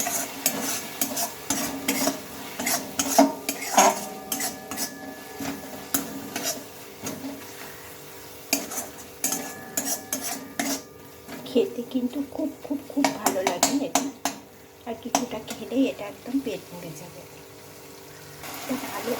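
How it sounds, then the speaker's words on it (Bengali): Wheat flour and refined flour are being stirred together with ground black pepper and a little sugar in a bowl, giving repeated soft scraping and clinking strokes with a voice intermittently audible. "ভালোভাবে এটাকে আমাদের মিশিয়ে নেব"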